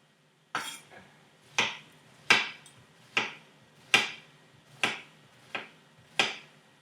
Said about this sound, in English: Chopping up the squash really quick.